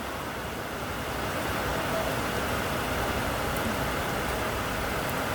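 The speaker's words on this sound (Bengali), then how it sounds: "প্রচুর বৃষ্টি হচ্ছে" Heavy rain pours steadily during flooding, a dense, even hiss that stays constant throughout.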